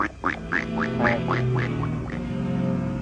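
A duck quacks about seven or eight times in a steady, evenly spaced series, close and clear against a low background hum.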